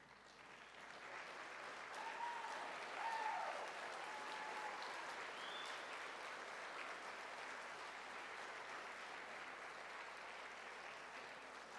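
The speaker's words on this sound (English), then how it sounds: "I would like the graduates to join me in a standing round of applause" A graduation audience gives a standing ovation in a large university ceremony hall: a soft, distant, sustained wash of clapping that swells slightly early on, then holds even, with a few faint tonal whistles.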